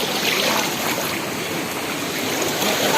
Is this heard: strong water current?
yes